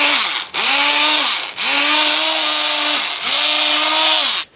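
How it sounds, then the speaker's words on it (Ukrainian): A kitchen blender whirs loudly as it purées a walnut sauce, running in three long bursts with short pauses between them. The motor pitch dips and recovers as the load shifts, and no one talks. "Богу дякувати, що капіталісти навчилися робити блендери"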